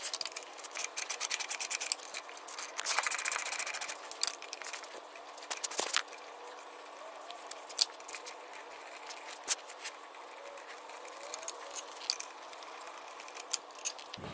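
Two 10mm bolts come off a Tao Tao Lancer GY6 scooter while the tire is being replaced: dry scratching and clicking of a tool on metal, with intermittent sharp ticks and rattles, close and fairly quiet.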